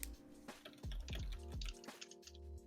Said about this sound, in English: I'm hearing psychotic typing.